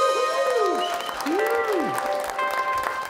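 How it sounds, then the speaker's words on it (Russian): Sparse, half-hearted applause from a comedy show audience, a thin, steady patter of clapping heard over tonal music with sliding, swooping notes. "очень ленивые аплодисменты были"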